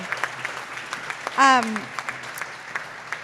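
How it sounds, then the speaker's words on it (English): Scattered applause from the audience at a democracy summit panel, sparse claps spread across a few seconds with a brief loud vocal whoop or cheer near the middle. "please let's give everybody a round of applause for presenting"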